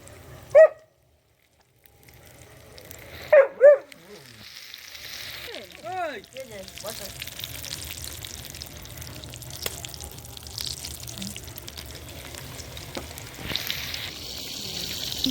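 Tomato and vegetable chops deep frying in oil, a continuous close sizzle that builds after a few sharp knocks and brief squeaks early on.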